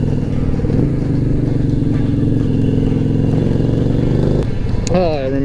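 A chopper motorcycle rides down a road, its engine holding a steady, loud, throbbing drone with a brief shift near the end.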